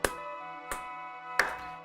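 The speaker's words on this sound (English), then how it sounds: "Because I know slow clap is supposed to sound like this." Three slow, separate hand claps, well spaced and fairly soft, each with a short ringing decay.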